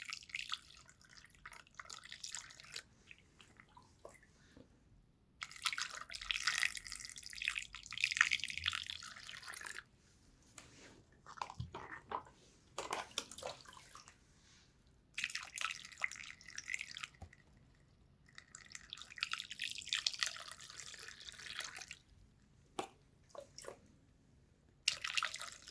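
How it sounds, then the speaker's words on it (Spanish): Tap water trickling and dripping through a funnel into the cells of a car battery, coming in intermittent bursts of splashing pour separated by quiet pauses, close by with no talking. "Nuevamente utilizan el embudo y van llenando de agua de la llave cada una de las celdas"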